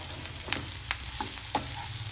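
Turmeric and masala fry in a pan for a cabbage and potato aloo gobi curry, with a steady close sizzle and a few sharp spoon strokes scraping through it. No voices are heard.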